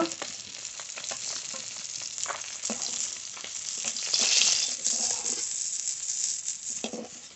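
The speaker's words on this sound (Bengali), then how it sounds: "এই মাছগুলো ভেজে নেবো" Fish fries in hot oil in a village kitchen, a steady close sizzle that crackles with short spits and swells louder for a moment toward the middle before settling back.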